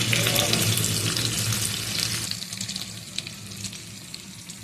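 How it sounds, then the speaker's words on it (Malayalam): Chopped onion and curry leaves frying in oil for a beetroot and potato curry, a close, steady sizzle with bright crackle that eases slightly midway and continues with scattered pops, with no one talking. "ഉള്ളിയും വേപ്പിലയും മുരുക്കിയതിൽ"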